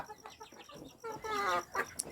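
Three-month-old domestic chickens on a farm cluck and chatter close by, with a steady run of soft clucks that rise into louder, busier calls near the end.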